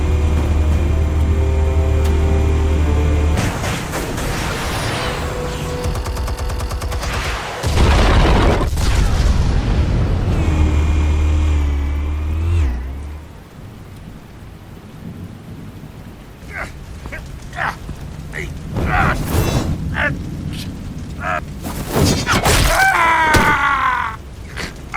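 In the Batman video game, explosives detonate in a heavy, rumbling boom that swells loudly and rolls on like thunder, then fades into softer scattered crashes and thuds.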